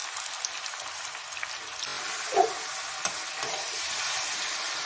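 Sugar being stirred into a sweet raw-mango pickle, a soft, steady granular scraping and rustle with one brief louder scrape midway, fairly close and without talk.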